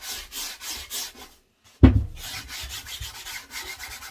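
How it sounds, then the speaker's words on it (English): A fabric chair cushion coated in mineral chalk paint is sanded by hand, giving a rhythmic scratchy rubbing in repeated strokes, a brief pause, then a sharp knock followed by more close, steady rasping. "just give it a good sanding."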